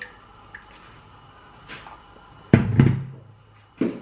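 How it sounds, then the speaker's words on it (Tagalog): Water added to a pan of sautéed garlic and onion for palabok sauce, a few short splashes and sizzling spurts, fairly close, separated by quiet pauses. "Siguro dagdagan ko pa yung tubig ng konti."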